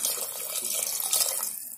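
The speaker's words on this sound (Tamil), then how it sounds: "கொஞ்சமா தண்ணி சேர்த்துக்கலாம்" Water poured from a tap into a pot of sambar after tamarind extract has been added, a short, close, steady splashing rush with no talk.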